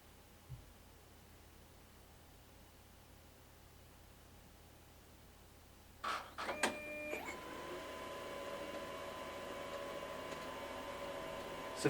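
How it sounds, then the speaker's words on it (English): A Lexmark CS310dn colour laser printer starts up after a quiet stretch, with a few sharp mechanical clicks and whirs followed by a steady, fairly loud hum of printing that continues to the end. "once that data was transferred over, the printer was extremely quick"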